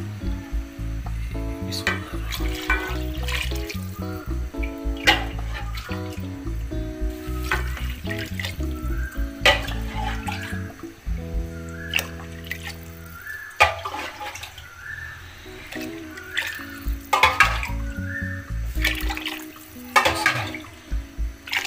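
Water runs and splashes into a large cooking pot for desi chicken soup, a steady rushing pour with clattering, sizzling bursts and clanks of metal as it fills.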